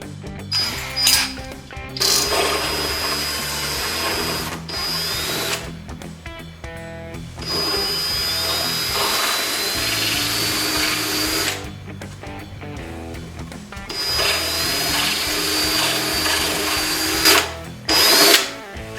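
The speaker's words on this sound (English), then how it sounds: "Switch to my unibit." A power drill fitted with a unibit step bit drills holes during a quad-pod installation, giving loud, close bursts of whining and grinding that start and stop several times with short pauses in between.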